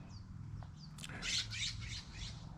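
A big brown bird squawks outdoors, a few faint chirps followed by a burst of harsh, repeated squawks over a low steady hum, fairly distant and quiet.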